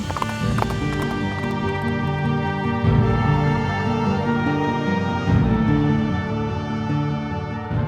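Horse hooves clip-clop at a steady pace beneath sustained background music, the hoofbeats continuing throughout at moderate loudness.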